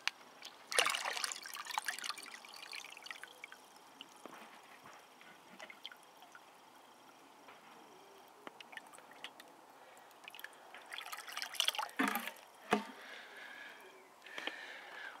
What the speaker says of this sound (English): I'll just pour it in, it'll be easier.